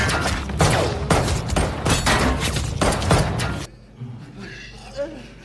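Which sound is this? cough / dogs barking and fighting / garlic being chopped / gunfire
gunfire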